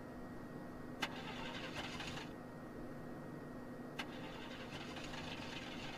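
A truck engine cranks and catches in The Walking Dead Season 2 video game, with sharp clicks and brief bursts of engine noise over a low hum.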